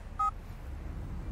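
A mobile phone keypad gives a single short dialing beep, a crisp tone over a quiet room hum.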